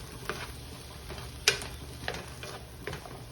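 A wooden spoon stirs fried rice in a non-stick pan over a soft steady sizzle, with a few distinct taps and scrapes spaced about half a second apart.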